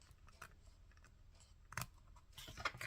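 Scissors snipping through paper while trimming an unevenly cut edge for a papercraft album, with a couple of close, brief crisp cuts standing out against quiet room tone.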